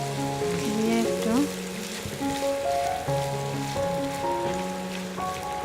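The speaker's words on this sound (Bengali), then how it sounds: "এখানে দিয়ে দিব আমি 2 চা চামচের মতো সয়াবিন তেল। এখন দিয়ে দিব পেঁয়াজ কুচিটা" Chopped onion frying in soybean oil in a pan, with a steady soft sizzle running under loud, prominent melodic background music throughout.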